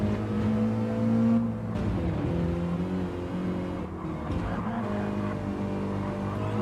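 A race car in a Mini Cup round at Catalunya slides sideways through a corner, its engine droning steadily with shifting revs and a faint tire scrub, loud and close with no voices.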